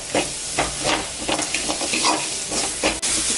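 Tomatoes sautéing in a pan for vada curry, a busy sizzle and hiss broken by repeated scraping stirs, close and fairly loud with no voices.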